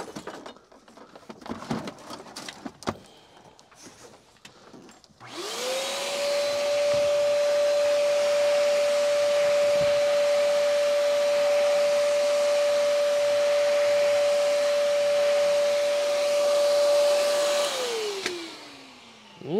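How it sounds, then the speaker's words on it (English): A shop vacuum cleans dust off the fretboard of a Martin guitar during fret replacement, starting after a few seconds of handling clatter with a loud steady whine, then spinning down at the end. "Let me vacuum this off."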